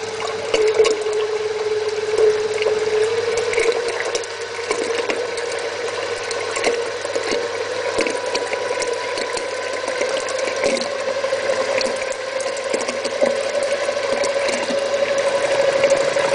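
A prototype container of water spins up, giving a steady whirring drone with a rising tone, scattered clicks and rattles, continuous and close.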